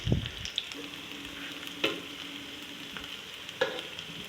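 Chicken potato cutlets shallow fry in a pan, a soft, steady sizzle broken by a few sharp clicks and scrapes of a turning utensil, with no speech.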